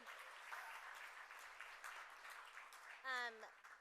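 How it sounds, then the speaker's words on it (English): Audience applause at a women's leadership gala, a fairly faint, even patter of clapping, then a brief voice near the end. "how about one more round of applause for Richa Murjani?"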